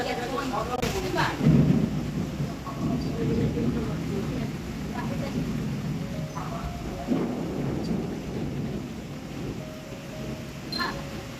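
A night thunderstorm with strong wind rumbles in low, rolling waves of thunder, with rain and muffled voices underneath throughout.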